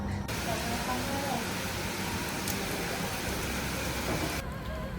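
Steady rain falls during outdoor grilling, a dense, even patter that holds unchanged for several seconds under a light breeze.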